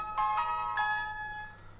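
A phone rings in a horror video game: a short electronic ringtone of bright, sustained chiming tones that repeat a few times and then fade, fairly quiet and heard alone.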